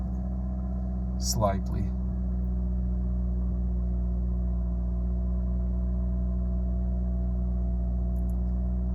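A Toyota Corolla engine idles with a low, steady hum just after its throttle body was cleaned, constant and fairly quiet, with a brief spoken word near the start.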